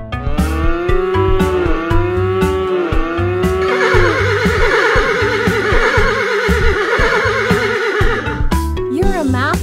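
Horses whinny and cows moo in a preschool math app for iPad and iPhone, with loud, close, overlapping animal calls and a steady clip-clop beat of hooves under them, and no speech.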